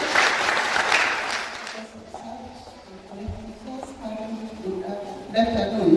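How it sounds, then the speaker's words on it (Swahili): An audience at a girls' high school parents' induction applauding to welcome a speaker, a burst of clapping that fades within about two seconds into quieter room sounds and murmuring. "Tumkaribishe kwa makofi"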